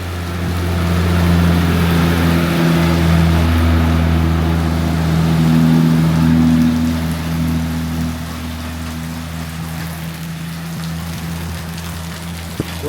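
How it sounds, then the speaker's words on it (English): Steady rain falls on a road in Indonesia, a dense hiss blending with the low drone and hum of a nearby engine and passing traffic, loud throughout and easing slightly toward the end. "it's raining."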